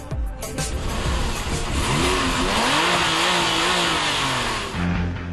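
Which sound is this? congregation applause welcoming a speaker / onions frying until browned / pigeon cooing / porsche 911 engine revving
porsche 911 engine revving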